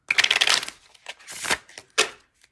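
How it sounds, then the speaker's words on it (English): Tarot cards shuffled by hand in a few quick riffling bursts, the first long and dense, then two shorter rustling flurries, close and fairly loud with no talking. "So one good shuffle here."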